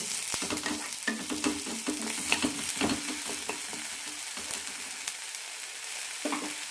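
Carrots sizzle in a hot pan for a coconut carrot chutney while a spoon scrapes and stirs them in irregular strokes, close and steady.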